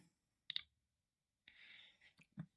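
Mouse clicks sound in a quiet room during computer work, a couple of sharp, faint taps separated by silence and a few soft noises.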